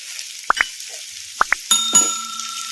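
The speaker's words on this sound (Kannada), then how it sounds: "ಈಗ ಬೆಳ್ಳುಳ್ಳಿ ಪೇಸ್ಟ್ ಹಾಕ್ಕೊಂಡ ಮೇಲೆ ಮೀಡಿಯಮ್ ಫ್ಲೇಮಲ್ಲಿ ಫ್ರೈ ಮಾಡ್ಕೊಂಡಿವಲ್ಲ" Crushed garlic paste frying with capsicum in a pan over a medium flame: a steady close sizzle broken by a few sharp, quick taps and clinks, with no voices.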